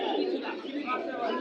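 Pigeons at a bustling pigeon market in Bangladesh coo and call briefly, close by, mixed with surrounding voices and market noise.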